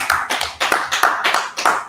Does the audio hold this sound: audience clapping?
yes